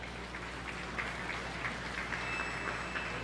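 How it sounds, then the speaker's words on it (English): A crowd at a county 4-H beef show applauds the kids, a faint, even patter of many hands that sounds distant and rain-like. "let's show these kids a good round of applause for all their hard work"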